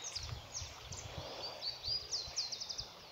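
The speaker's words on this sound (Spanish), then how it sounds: "Los pajaritos." Small birds chirp in a quick series of short, bright calls, increasing toward the end, over a soft outdoor rustle beside a river in Salta, Argentina.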